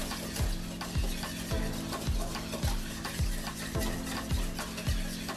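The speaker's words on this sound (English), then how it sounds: "Whisk this like this." Whisking dry ingredients for a no-oven chocolate cake in a bowl makes a quick, regular rhythm of scraping strokes, about two per second, loud and close with no voice.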